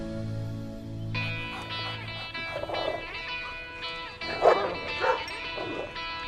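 Dogs barking and yipping near a veterinary visit in a coastal community, a few sharp close barks and whimpers following a droning tone, with no speech.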